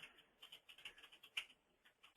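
Quiet, close keyboard typing: a quick, irregular string of soft key clicks with brief pauses, no voices.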